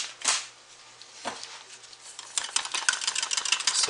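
Additives are whisked into soap batter in a bowl, giving quick scraping, clinking strokes that begin sparse and become rapid and continuous near the end, with no voices.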